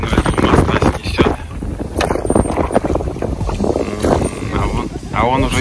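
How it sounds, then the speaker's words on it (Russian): Wind gusts buffet the microphone on a lake in the Gatchina palace park while a rowboat is rowed, with rough blustery rumble, water and oar knocks, and people talking throughout. "Ветер тебя снесет."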